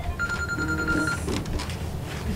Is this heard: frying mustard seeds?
no